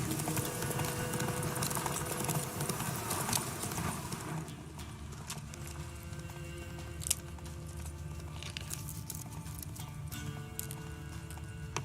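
Roach, the horse in The Witcher 3, gallops with steady rhythmic hoof clip-clops that start dense and close, then ease into a lighter canter over faint background ambience.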